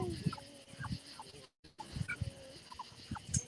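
Chickens in a barn cluck and squawk in short, scattered bursts, fairly faint and close, with brief shuffling noises between calls and a momentary gap in the middle.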